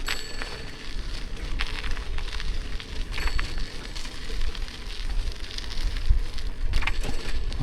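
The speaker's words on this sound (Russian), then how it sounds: "Ну и начинает дождь накрапывать." Light drizzle pattering on surfaces outdoors, a dense continuous patter with scattered louder drops, steady and fairly close, with no talk.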